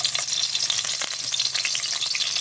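Garlic sautéing in hot cooking oil for a Filipino mung bean stew with pork bones, a steady close sizzle and crackle with occasional stirring scrapes, no talking.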